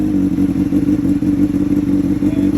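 A Honda CBR600RR motorcycle with a TOCE exhaust idles loud and close, giving a steady, low, throbbing rumble that pulses without clear revving, with no talking over it.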